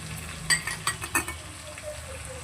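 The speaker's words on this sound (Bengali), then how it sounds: "এই সময় দিয়ে দিচ্ছি আমি অল্প করে একটু সর্ষে বাটা" Mustard paste frying in oil with a spice mix for a prawn curry, low sizzle under a few metal spoon scrapes and clinks against the pan.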